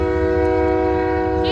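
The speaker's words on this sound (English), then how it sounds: "Even the train's honking at them." A loud, sustained train horn blares steadily throughout, a rich chord of stacked tones holding without a break over a rumbling background.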